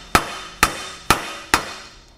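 Four evenly spaced, sharp metallic hammer taps knock a U-joint cup out of the shaft yoke on a Silverado Duramax. Each strike rings briefly, close and clear, with no talk over it.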